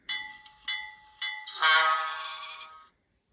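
A single rooster-like crow from a model train sound decoder in an HO scale cattle car rings out alone: three short, bright notes followed by one long, drawn-out call that cuts off cleanly.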